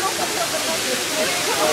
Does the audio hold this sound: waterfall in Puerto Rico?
yes